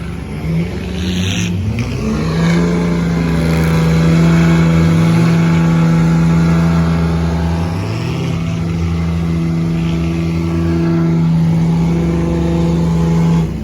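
An early-90s Ford Crown Victoria at the 2020 Carroll County demolition derby revs loud and close, its engine note rising and falling in several surges over a steady idle.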